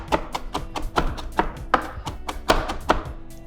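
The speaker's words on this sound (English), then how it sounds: "So here I have some fresh parsley. Just giving it a rough chop." Fresh parsley being roughly chopped with a knife on a board, giving a brisk series of crisp, close taps at an uneven but steady pace, with no talking.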